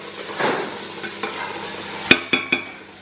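Chicken stirred in sauce in a pan, a low sizzle with a few sharp utensil clicks against the pan near the end, close and quiet, no talking.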